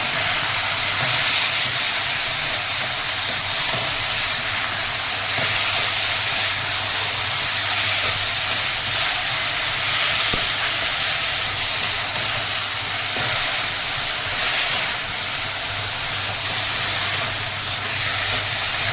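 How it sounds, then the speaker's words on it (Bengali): Banana flower masala sautéing in a pan after a splash of coconut water, giving a loud, continuous steamy hiss and sizzle that holds evenly for the whole stretch. "একটু করে জল দিয়ে, এটা নারকেলের জল দিয়ে একটু কষবো"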